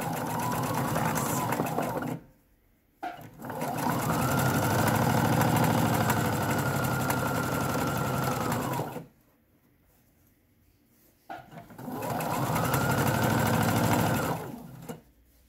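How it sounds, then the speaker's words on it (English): A sewing machine stitches across fabric knife pleats in two long, steady whirring runs, close and loud, with short quiet pauses before and between them. "then I'm just going to sew"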